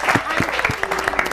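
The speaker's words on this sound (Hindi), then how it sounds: "तालियां हो जाए" Brief applause from an audience at a wedding anniversary show, a short burst of clapping with a voice speaking over it.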